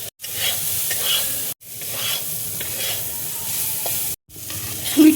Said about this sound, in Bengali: সুইট কর্ন দেখো ভাজা হয়ে গেছে